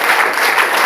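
A brief, loud burst of congregation clapping at a French-speaking church service, a dense continuous patter of many hands close by.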